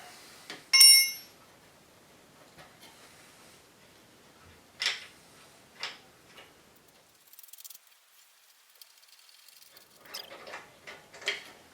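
A wrench works a bolt on the brake caliper of a Yamaha Road Star motorcycle, reached in behind the reflector: one sharp ringing metal clink early on, then sparse, faint clicks, taps and scraping rattles spread out in quiet, with no talking.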